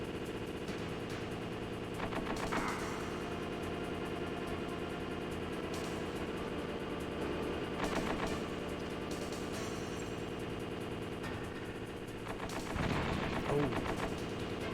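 Gunfire and explosions from a tank attack in the video game Metal Gear Solid, a rolling stream of bursts with several louder blasts spaced over a constant engine-like rumble.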